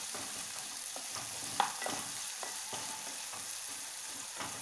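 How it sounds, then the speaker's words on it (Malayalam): Onion and tomato sautéing in a pan for a Kerala-style beef roast, a soft steady sizzle with scattered scrapes and taps of stirring, one sharper clink near the middle; no voices. "ഈ തക്കാളിയും കൂടി ചേർത്തതിന് ശേഷം ഇത് നന്നായിട്ടൊന്ന് വഴറ്റിയെടുക്കാം."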